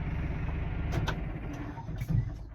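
Massey Ferguson 6S tractor engine idling in a low, steady rumble, then shutting down, with a couple of faint clunks as the sound falls away.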